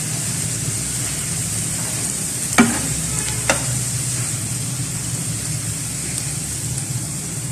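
Onions frying on a tawa for spicy tawa chicken give a steady, even sizzle throughout, close and fairly loud, with two brief clicks of a utensil midway and no talking.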